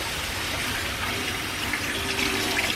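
Sink tap water runs steadily while salt is rinsed off a raw duck, a continuous close splashing flow with slight variations as the water strikes the bird.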